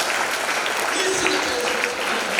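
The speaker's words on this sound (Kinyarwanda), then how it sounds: "Tugukomeye amashyi menshi." A church congregation at a men's conference claps in loud, dense, sustained applause, with voices mixed in under the clapping throughout.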